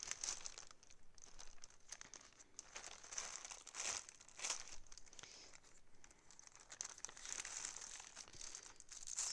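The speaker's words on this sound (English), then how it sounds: "Sorry for all the crinkly noise here" Plastic packaging gets handled and crinkled up close, with faint, intermittent crackles and rustles and a few sharper crinkle bursts over several seconds and no speech.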